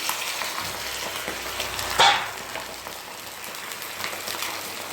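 A pasta sauce with chili paste sizzles and hisses in a pan as pasta cooking water is poured in, with a sharp loud burst of spitting partway through before it settles into a softer steady fizz.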